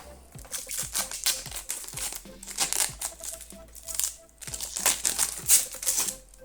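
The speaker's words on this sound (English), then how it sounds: "So now let's unwrap this" Plastic packaging around a Devolo Magic 2 powerline adapter is peeled and crinkled close up, an irregular run of crackles, snaps and rustles with short pauses, no voices.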